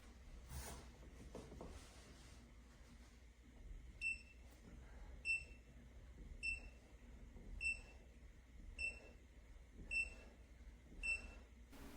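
An electronic counter on a folding exercise board beeps repeatedly in short, high double tones at a regular pace, fairly faint against quiet background noise.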